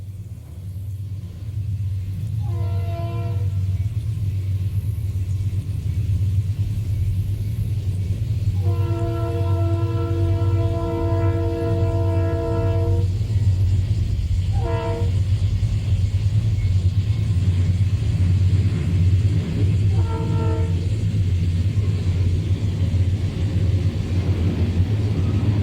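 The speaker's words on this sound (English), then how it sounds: "A westbound is heard coming and seen sprinting across the causeway and over the bridge" A westbound Conrail freight train crosses a causeway and drawbridge with a constant heavy rumble, while its horn sounds in several blasts: a short one, a long sustained one, then two more brief ones, loud and fairly close.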